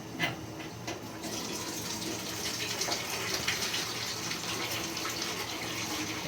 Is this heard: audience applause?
no